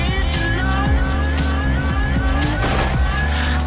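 A racing car engine in the video game OnRush revs hard and loud, its pitch rising and falling in quick repeated sweeps as the car accelerates, with some tire squeal mixed in.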